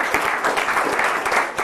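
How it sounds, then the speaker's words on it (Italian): An audience at a televised Italian swimming federation sports program applauds in a dense, steady burst of many hands clapping. The applause is moderately loud and close, with no speech over it. "un applauso anche a Medea."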